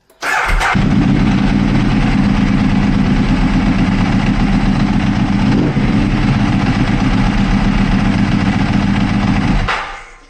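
Ducati 1198S Corse superbike starting up after an ECU change, the twin-cylinder engine catching abruptly and then running loud and steady at a rough, throbbing idle for about nine seconds before cutting off.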